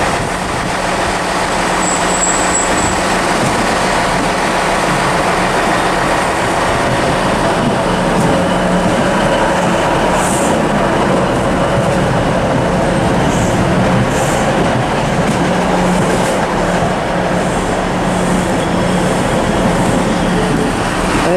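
A train rumbles steadily close by, with rail noise and faint metallic squeals as it rolls slowly into Carlisle station on the West Coast Main Line, loud and continuous throughout.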